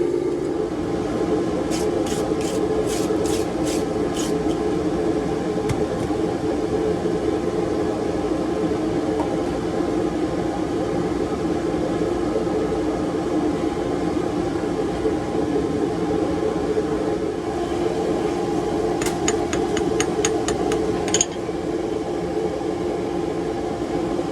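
A ribbon burner forge heats scrap flat bar with a steady, loud roar and hum throughout, broken by a few brief clusters of faint ticking clicks.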